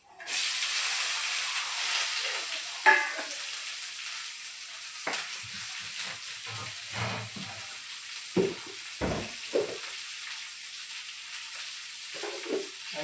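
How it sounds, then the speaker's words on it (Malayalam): Sliced onions hit a hot pan already holding curry leaves, ginger paste and green chillies, bursting into a loud steady hiss and sizzle that continues throughout with occasional stirring clatters and no speech. "ഇത് നമുക്ക് സവാള ഇട്ട് കൊടുക്കാം."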